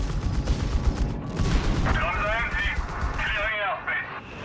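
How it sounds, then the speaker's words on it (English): Sustained machine gun bursts and heavy fire in a Company of Heroes 3 battle between Wehrmacht/DAK and British/US forces, dense and continuous, mixed with a commentator talking over it. "Machine gun there, getting blasted."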